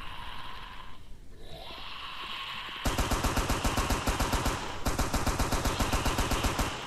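Gunfire from a video game as zombies are shot, with rapid automatic bursts in two long, dense runs of sharp, loud reports. A quieter stretch of ambient game noise comes before the shooting.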